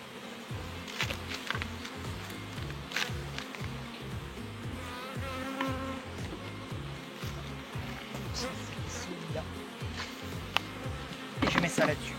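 Honeybees buzz steadily around an open hive while a beekeeper sets up a new swarm, a dense insect hum running throughout with brief clicks of hive parts being handled.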